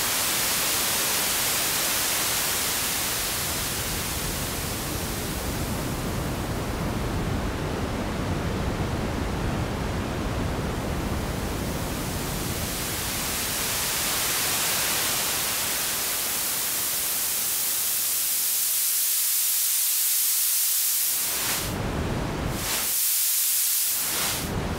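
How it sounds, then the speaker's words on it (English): Noise generator on a Moog Mariana bass synthesizer turned toward high-pass filtered noise: a loud, steady hiss that sweeps and thins out, with brief cuts near the end and no talking. "if you tweak it clockwise, you get high-pass filtered noise,"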